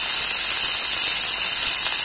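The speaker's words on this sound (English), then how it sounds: "Folks, listen to that sizzle." Cherry-grilled halibut with fish seasoning sizzles on a hot skillet over a Weber Summit charcoal grill, a close, steady bright hiss and crackle with no talking.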